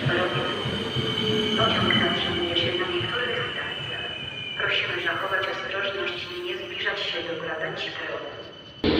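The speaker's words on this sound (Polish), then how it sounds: "Pociąg zatrzymuje się na niektórych stacjach." A train at Skierniewice railway station in Poland, heard close with rumbling wheels and high metallic squealing tones that rise and fade throughout, while station announcements and voices carry under the noise.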